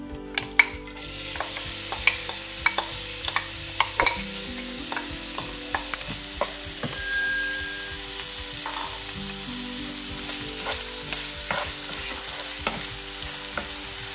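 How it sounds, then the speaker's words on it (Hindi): Chopped onions fry in oil in a pan on a medium flame, a continuous close sizzle with frequent scraping and tapping of a stirring spoon and no voices. "अब मीडियम आंच पे इसको हमने अच्छा सा फ्राई करना है।"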